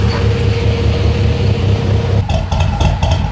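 A diesel engine idles steadily and loudly close by with a low rumbling throb, joined near the end by some sharper clatter and knocks.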